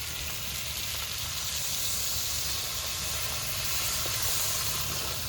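Water hits a hot pan of spiced potatoes, giving a steady, loud hissing sizzle with steam that holds evenly throughout.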